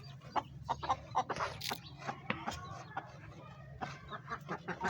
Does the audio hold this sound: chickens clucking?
yes